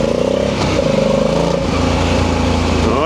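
Motorcycle engine ridden through slow, tight car-park manoeuvres, loud and close, idling and blipping with short throttle revs and a rising rev near the end.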